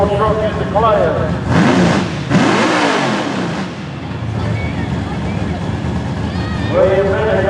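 A pulling truck revs its engine hard at a sled-pull event, the roar climbing and falling in loud surges with wind buffeting the microphone, while a voice talks over it at times.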